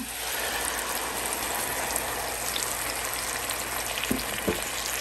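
Ground tomato paste frying in a hot pan for chicken and rice, a steady close sizzle with faint scraping and a couple of light knocks near the end.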